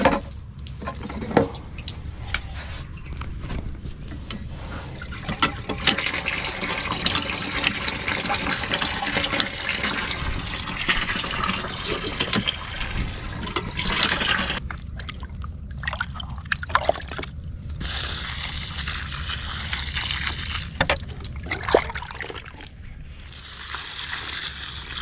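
Water from a hand pump beside a hut gushes and splashes into a container in a steady, continuous stream, with a few brief knocks and pauses in the flow.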